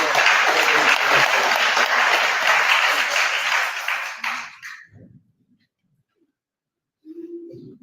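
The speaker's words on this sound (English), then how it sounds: "We give a hand of applause to Austin Bayo." An audience at a presidential engagement with people living with disabilities breaks into dense, loud applause that fades out after about five seconds, followed by near silence and then a voice starting to speak.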